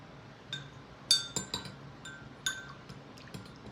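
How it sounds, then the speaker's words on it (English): A spoon stirring glycerin in a container for hand sanitizer, giving a handful of light, bright clinks and taps against the side, spaced irregularly, close and quiet, with no voices. "you gotta stir that until you get all that off of your spoon"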